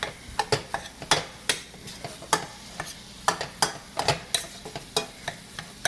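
Ground meat for spaghetti is being mixed in a pan with a faint sizzle underneath. A spatula scrapes and knocks against the pan in quick, irregular strokes, close and fairly quiet, with no speech.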